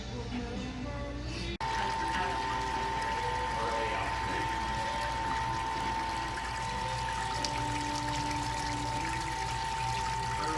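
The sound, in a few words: wort being poured into a bucket on a pilot brewing system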